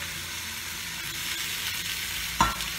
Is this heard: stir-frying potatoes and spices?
yes